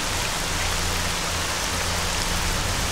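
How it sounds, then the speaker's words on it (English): Steady, dense rain hisses without a break in S.T.A.L.K.E.R.: Shadow of Chernobyl, a close, even downpour that fills the whole moment with no voices. "That rain is really getting annoying."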